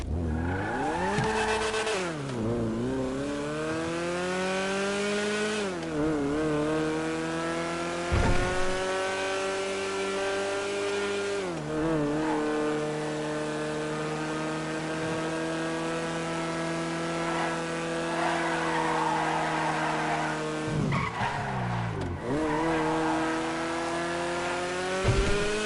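A Stinger two-door sports car test-driven in GTA Online revs hard through repeated gear climbs and sharp downshifts, engine roaring loud and close for the whole stretch, with brief tire squeals between pulls.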